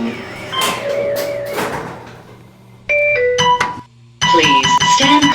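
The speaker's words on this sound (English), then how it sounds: "Please stand clear of the closing door." Lift doors slide shut at a lift test centre amid chimes and tonal alerts, with a rumbling slide, a clunk and brief quiet before another burst of dings and door noise; automated announcements play.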